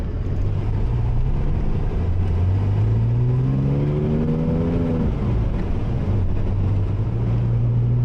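A 700 hp Porsche Cayman 987 Turbo drives along a dry road, its engine droning steadily and rising in pitch as it accelerates, with constant road and wind roar throughout and no talk.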